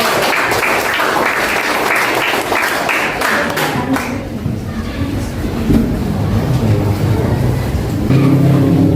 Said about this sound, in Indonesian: Berikan tepuk tangan buat kelompok A